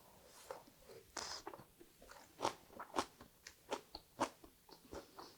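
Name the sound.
biting crunchy egg roll with water dropwort (minari)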